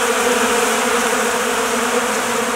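Honey bees buzz steadily at a feeding container in February, a dense continuous hum close by with no pauses and no talking.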